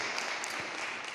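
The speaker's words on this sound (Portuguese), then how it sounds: "dá uma linda salva de palmas para o Senhor Jesus" Brief burst of congregation applause in a church service, a dense, even patter of many hands heard at moderate distance.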